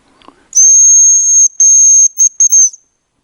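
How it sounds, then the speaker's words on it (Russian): A hazel grouse in the taiga gives a thin, high, piercing whistle: one long drawn note, then several shorter clipped notes, close and clear against silence. "Рябчик свистит."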